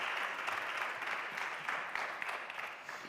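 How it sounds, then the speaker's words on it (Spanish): Audience applause for interviewees at a youth migration congress in Mérida: a dense, steady clapping from a crowd, sustained and even throughout with no voices. "fuerte aplauso para ellos"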